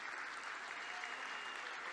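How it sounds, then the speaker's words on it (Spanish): An audience claps steadily at an economics event in Argentina, a dense, even wash of applause that stays soft and somewhat distant for the whole stretch, with no voices over it. "Y un fuerte aplauso también para Carlos Castañeto."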